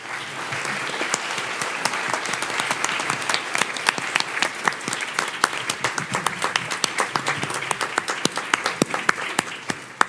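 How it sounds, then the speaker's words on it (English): Sustained audience applause at a Roswell Woman's Club candidate forum, dense hand clapping from a crowd filling the room for the full stretch, loud and steady with sharper claps standing out near the end. "So please join me in giving them a round of applause."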